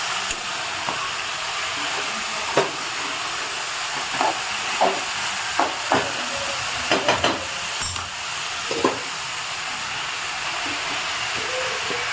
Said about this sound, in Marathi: तेलामध्ये भाजी टाकूयात